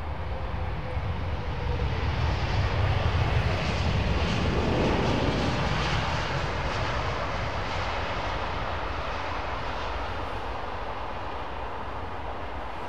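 A Lufthansa airliner passes overhead near London Heathrow Airport, a loud, broad jet roar that swells around the midpoint and then holds steady, with no voices over it.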